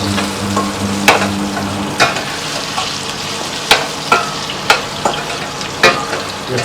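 Steady hot-oil sizzling fills the clip, with occasional sharp pops and clicks as garlic crackles in the tempering close up.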